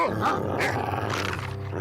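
Dogs growling and giving short barks nearby, a rough throaty snarl rising and falling over under two seconds with no talk.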